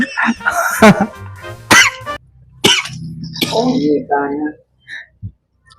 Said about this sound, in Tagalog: Pasensya na kayo ngayon guys at ako po ay